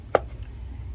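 A knife cuts through soft boiled potatoes for potato salad in a kitchen, giving one brief, close chopping thud against a quiet background.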